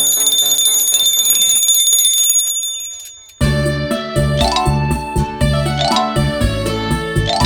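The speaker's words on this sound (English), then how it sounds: "his little ice cream cart that had a tinkling bell" A little ice cream cart's tinkling bell in a park: bright, high, ringing tones sustain for about three seconds, then cut off as lively cartoon music begins.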